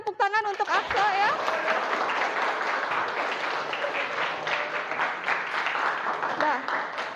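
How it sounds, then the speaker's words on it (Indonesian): Classroom applause breaks out after a teacher's brief spoken remark at the start, a dense burst of hand clapping from students that holds steady for several seconds. "Berikan tepuk tangan untuk Aksa ya"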